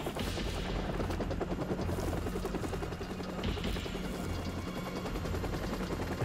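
Helicopter rotor thudding steadily through a battle in Call of Duty 4: Modern Warfare, a loud continuous drone mixed with bursts of gunfire throughout.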